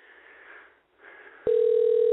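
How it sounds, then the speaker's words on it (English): A telephone call rings out through the handset, a faint filtered tone followed by a loud, steady ringback tone near the end, with no voices. "And it's ringing."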